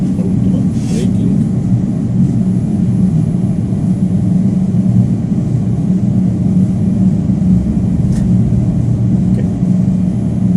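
An Airbus A320 in a flight simulator gives off a steady, loud jet-engine rumble and hum during landing. A couple of brief clicks cut through the continuous drone.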